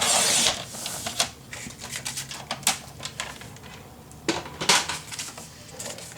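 Paper for a Graphic 45 mini album is cut by hand, giving a series of sharp, close snips and crisp scraping bursts at an uneven rhythm, fairly quiet with nothing else in the background.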